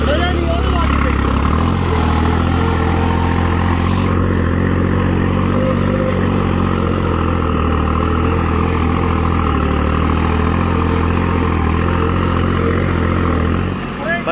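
A tractor pulling a subsoiler runs with a steady, loud, low engine drone throughout, close by, while voices talk over it.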